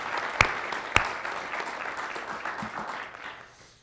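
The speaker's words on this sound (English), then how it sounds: "please give a warm round of applause to all of our speakers" Audience applause for conference speakers at a data transparency event closing session, a broad wash of clapping that swells and then fades over a few seconds, with a couple of sharp louder claps near the start.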